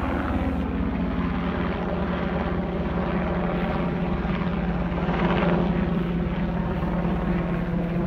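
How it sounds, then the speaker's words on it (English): A helicopter hovers in the distance above the seaside town of Filey, a steady low rotor drone holding without a break throughout. "There's a helicopter hovering around in the distance"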